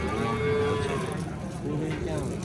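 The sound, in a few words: cow mooing at a livestock market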